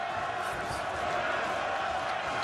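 Noisy crowd at a boxing fight with a 27-year-old Scot pressing the attack, a loud, steady broadband roar of many voices filling the arena throughout with no breaks.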